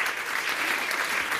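Audience applause in a live comedy-style show, a dense, steady wash of many hands clapping throughout with no gaps.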